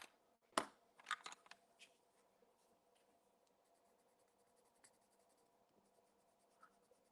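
Colored pencil scratching across craft paper in faint, soft strokes, with a louder tap and a flurry of scratches early on, then quieter intermittent scribbling.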